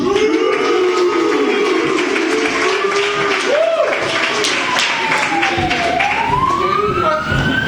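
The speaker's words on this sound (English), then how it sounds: "Have you heard all the sirens tonight?" Emergency sirens wail and sweep up and down continuously, loud and overlapping, with a busy background of crowd noise.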